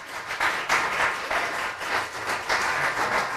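A studio audience at an evening talk event claps in rolling waves, a moderate burst of applause that swells and eases in surges over a few seconds.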